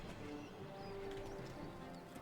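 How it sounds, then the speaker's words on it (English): Wild horse herd in the video game Oblivion Remastered, faint clip-clop of hooves from a distance under a soft ambient background. "Oh, is that a wild horse herd?"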